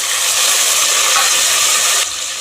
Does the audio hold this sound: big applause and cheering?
no